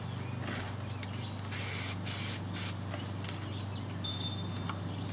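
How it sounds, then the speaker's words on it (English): Spray can laying primer on a car body scratch repair, a few short loud hissing bursts in a row, close up, with no talk. "Third coat of primer has been applied."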